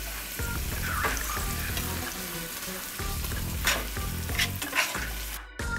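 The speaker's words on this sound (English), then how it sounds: "Now that my oil is nice and warm, nice and hot, I'm gonna throw my onions in there first and get those going." Onions hitting hot oil sizzle loudly and steadily, with repeated scraping and stirring strokes in the pan, close and alone.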